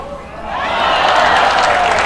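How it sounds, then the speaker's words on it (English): Applause and cheering swell from the crowd at the US Open Pickleball Championships after a rally. The clapping starts modestly, then grows to a sustained roar. "Gabrielson giving a little applause to Barr with a smile on the face."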